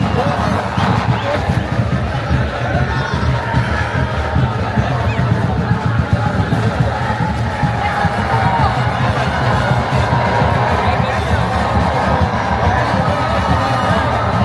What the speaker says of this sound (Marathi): आता किती गर्दी आहे, भरपूरच गर्दी आहे